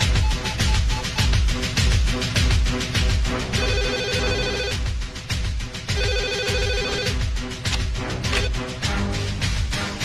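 A telephone rings with an incoming call in a Hindi film courtroom-drama scene, two bursts of electronic ringing heard over loud, dense dramatic background music.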